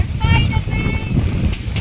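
Strong storm wind buffeting the microphone in gusty, low roaring bursts while someone talks over it.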